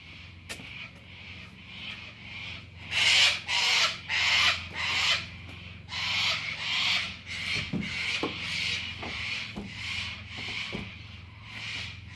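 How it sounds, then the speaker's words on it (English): A screwdriver scrapes dirt out of the corners of a single-hung window in a rhythmic series of short rasping strokes, close and fairly quiet, with no talk. "Screwdrivers come in handy in these situations to get in the little corners."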